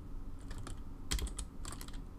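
Someone types on a computer keyboard in a quiet room, light quick clicks in short clusters with a louder burst of keystrokes in the middle.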